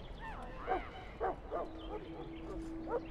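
A Mabari war hound in a fantasy video game barks and yips in short bursts, several sharp calls spread across the moment, with a faint steady tone humming underneath.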